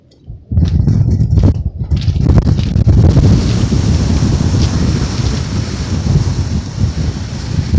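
A strong northerly wind batters a rural bush beach on the New Zealand coastline, a loud, roaring, gusting rush that buffets the microphone after a brief quieter moment in shelter, with surf likely mixed beneath.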